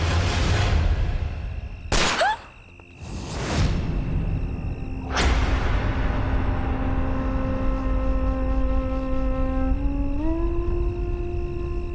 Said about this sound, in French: On aurait dit un coup de feu.